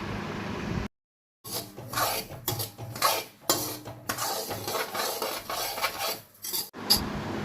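Semolina is stirred and scraped in a dry wok with a metal utensil, giving close, irregular scratching and clinking strokes with a brief silent pause early on.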